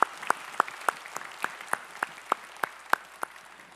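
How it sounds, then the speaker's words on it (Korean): Congregation in a church clapping in steady unison, a crisp even beat of sharp claps about three per second over a quiet background. "우리의 찬양을 받으실 주님께 영광의 박수 올리겠습니다."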